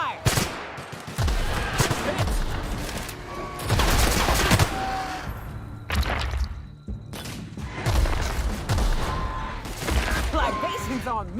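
Bursts of rapid gunfire from the Hardcore Mecha video game come in repeated loud volleys with thuds and crashes between them, while voices talk over the action.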